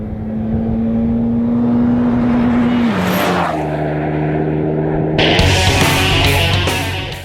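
Renault Megane R26.R pulling away, its engine note climbing loud and close, dropping briefly as it shifts, then rising again with a harsher roar near the end.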